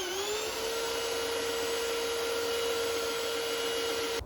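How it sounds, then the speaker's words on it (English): A belt sander with 220 grit paper drones steadily while sanding a wooden table edge, a loud, close, continuous motor whine that winds up at the start and cuts off at the end. "The belt sander is fantastic for finishing off the edges."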